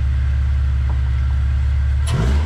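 A classic VW engine fitted with a Flowmaster muffler idles with a steady, even low rumble, then a brief louder burst near the end, with no voices.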